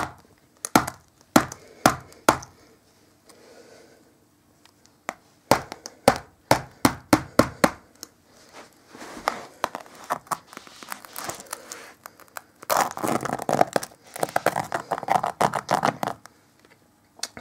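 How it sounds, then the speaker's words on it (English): Scissors repeatedly stabbing an iPad 2 during a strength test: sharp, close taps and clacks in bursts, then a denser stretch of scraping and scratching. "not much is actually happening by stabbing it with the scissors"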